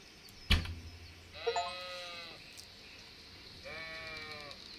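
Sheep in the medieval video game Kingdom Come bleat twice, each a wavering cry lasting about a second, after a sharp thud at the start, heard alone over quiet game ambience.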